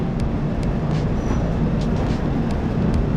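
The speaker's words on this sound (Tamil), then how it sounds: "ரயில்வே ஸ்டேஷன்லேருந்து ட்ரெயின் கிளம்பிருச்சு." Rapti Sagar Express pulling out of a busy Gonda railway station: a steady, loud low rumble of rolling stock with faint rail clicks running continuously throughout.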